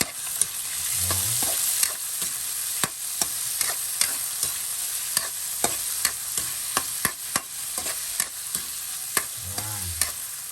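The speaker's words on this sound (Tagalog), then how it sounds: "Lagay na natin itong ating hotdog." Hotdog frying and being stirred in a pan for Filipino sopas, a steady close sizzle with repeated sharp clicks of a utensil against the pan throughout, no voices.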